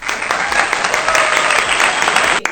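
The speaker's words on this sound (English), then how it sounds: "Please, can we give her a round of applause?" Steady round of audience applause on a children's show, dense and loud for about two and a half seconds before cutting off abruptly.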